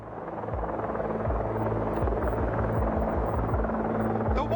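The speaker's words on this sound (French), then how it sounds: "Et maintenant, j'entends des hélicoptères." A steady helicopter drone with deep rhythmic rotor thumping, fairly loud and continuous throughout, no voices.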